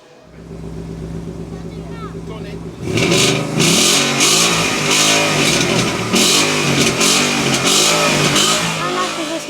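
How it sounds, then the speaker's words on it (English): At a car meet, a Porsche GT2 RS engine starts from a low idle, then surges into loud, close revving that holds high and fluctuates for several seconds, with voices talking over it. "You don't see these often, a GT2 RS."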